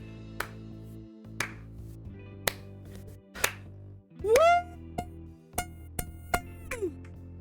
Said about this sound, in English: can you guys hear if I clap?